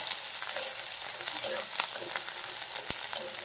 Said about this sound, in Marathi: कांदा चांगला परतलाय बघा